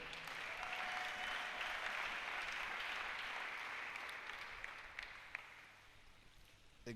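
A church congregation applauds together, a dense, sustained wash of clapping that fills the room for several seconds before gradually thinning out.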